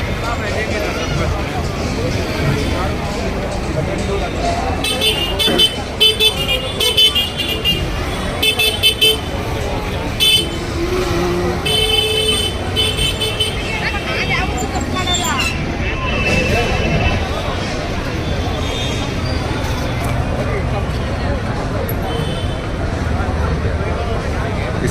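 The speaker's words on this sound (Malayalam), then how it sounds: "ഇവിടെ വീണ്ടും ട്രാഫിക് ജാമിൽ നമ്മൾ കുടുങ്ങിയിരിക്കുകയാണ്" A traffic jam on Church Street, Bangalore, on Christmas night: idling and moving cars with repeated short horn toots scattered through, over a continuous background of crowd babble and nearby voices talking.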